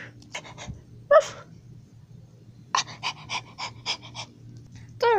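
Quick, breathy dog panting in short bursts from a video game, with sniffs and huffs between quiet gaps, close and fairly soft.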